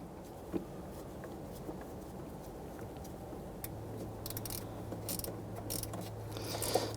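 A nut is snugged down on a stud while installing an AC discharge line on a 2011–2015 Kia Sorento 2.4L. The ratchet gives faint, intermittent clicks, with a low steady hum and light metallic handling noises growing toward the end. No one is talking.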